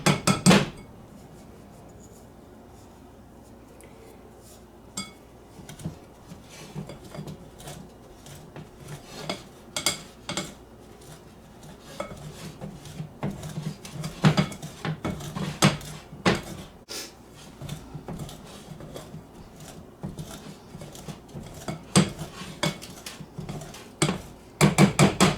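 Butter gets worked into gluten-free pie crust flour in a bowl, heard as a long run of close clinks and taps of a utensil against the bowl that start sparse and grow busier; no talking.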